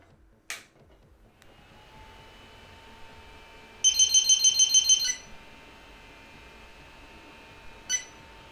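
A BIQU BX 3D printer powering on: a click, then a steady fan hum, a rapid run of electronic beeps midway and one more short beep near the end, close and alone.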